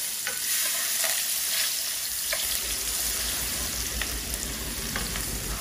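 Spices frying in a hot pan with continuous stirring, a loud, dense sizzle broken by repeated clicking spatula scrapes and taps throughout, alone without speech.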